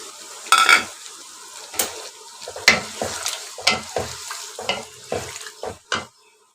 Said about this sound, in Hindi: मैंने टमाटर और सब्ज़ मिर्चों को इसके साथ यहाँ पर भून लिया